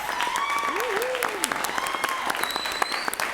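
Audience applause at a school board meeting honoring a student competitor, a steady mid-level clatter of clapping with voices talking and a whoop rising through it.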